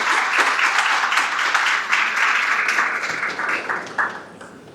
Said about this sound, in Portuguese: Pessoal, por favor, uma salva de palmas para o Rafael.